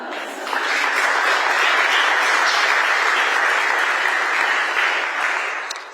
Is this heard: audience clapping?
yes